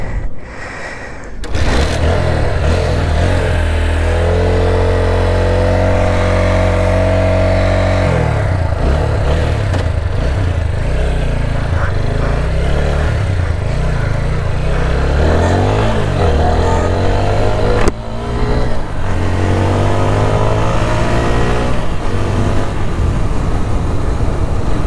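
A TVS Apache RTR 160 4V ABS Refresh Edition motorcycle is ridden, its engine a loud, close, continuous drone whose pitch rises and settles as the rider shifts gears. No one speaks.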